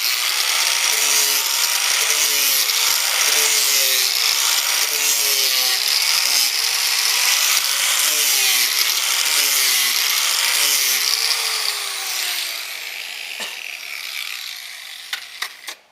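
A power tool grinds and trims an aircraft window for a rough fit on a Glastar/Sportsman, a loud continuous whine with a repeating rhythmic rasp that eases off toward the end, with a few sharp clicks.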